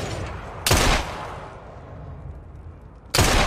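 Two sharp, loud gunshots ring out in Assassin's Creed Syndicate, roughly two and a half seconds apart, each a close, cracking report followed by a short tail over a low ambient background.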